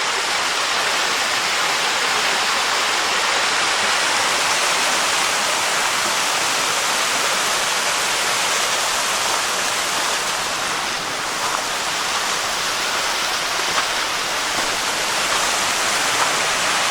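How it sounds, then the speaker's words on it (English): A small waterfall in Pennsylvania woods splashes and rushes continuously, a steady broadband roar close by with no talking. "A little waterfall."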